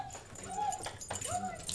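A golden retriever whimpers softly in two short, rising whines inside a courthouse, faint and close over a low room murmur.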